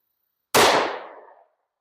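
A single sharp gunshot from an M&P pistol with a red dot sight firing DoubleTap 115-grain lead-free .357 Sig ammunition, a loud close crack followed by a quickly fading outdoor echo.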